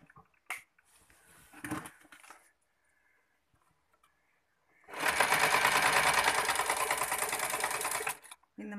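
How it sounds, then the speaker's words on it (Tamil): A sewing machine runs in one steady, loud burst of fast stitching along a half-inch folded hem of a lungi. Before it starts there are brief handling clicks and a pause. "மடிச்சிட்டு இப்போ தைக்க போகிறேன்."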